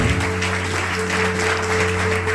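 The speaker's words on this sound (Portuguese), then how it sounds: "Dê uma linda salva de palmas ao Senhor." Church congregation applauding, a sustained, loud wash of clapping with a steady low organ-like tone held underneath.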